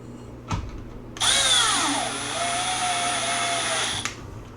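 A power drill drives two screws into the back of a Traxxas Slash 4x4 RC truck body being converted to a Raptor R, a brief click followed by one sustained, loud whirring run that bends in pitch as the screw seats.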